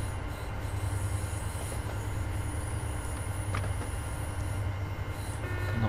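A locomotive runs in the train simulator game Train Sim World 3, giving a continuous steady rumble of rolling rail wagons with faint wheel squeal and no one speaking.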